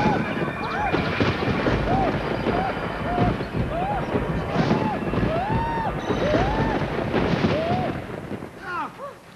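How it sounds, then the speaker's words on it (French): Cartoon-style heavy rain and thunder rumble continuously beneath a string of rising and falling whistling or squeaking effects, busy and fairly loud throughout. "il va y avoir une pluie lourde"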